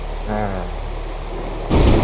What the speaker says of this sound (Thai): โอ้ฟ้าร้องฟ้าผ่า